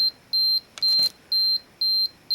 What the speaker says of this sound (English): on the self timer setting, here we hear this beeping sound